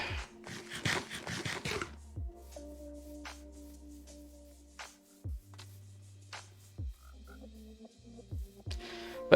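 Frogs in Minecraft croak in short, irregular bursts, some in quick clusters and others spaced seconds apart, over a quiet background.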